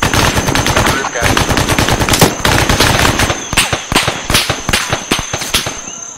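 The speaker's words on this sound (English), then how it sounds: "I'm not sure where those shots are even coming from." Rapid bursts of automatic gunfire crackle in the ArmA 3 military shooter, dense and loud, with sharp individual shots and short pauses between volleys.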